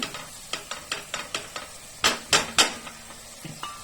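A spoon stirs spiced tomato masala with salt in a pan. It gives a steady run of about a dozen quick scraping and clinking strokes against the metal, with a faint sizzle underneath and no voices.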